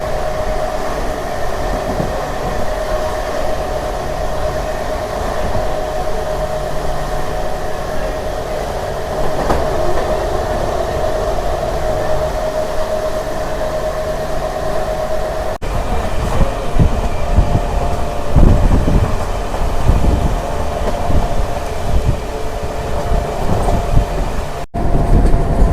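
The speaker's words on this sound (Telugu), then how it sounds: "ట్రైన్ వచ్చేసి మామండూరుకి అయితే వచ్చింది, బయలుదేరిపోయింది." A MEMU passenger train pulls out of Mamandur station on a rainy day, its steady rumble and wagon clatter swelling louder and rougher after the midpoint, heard close from on board with no voices.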